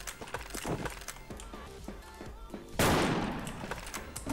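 Gunshots from an HK417-style rifle in a mobile shooter game, a run of sharp rapid cracks followed by a louder burst of sustained gunfire near the end.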